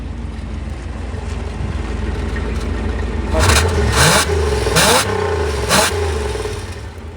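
A 1975 Chevrolet Monza with a 350 V8 idles with a rough, loud rumble, then revs hard four times in quick succession, each rev a sharp roar before dropping back to idle, close and with no talking.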